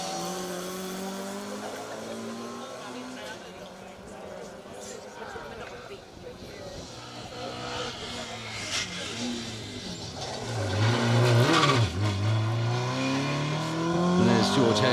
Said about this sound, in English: It sounds well, doesn't it, that is revving high.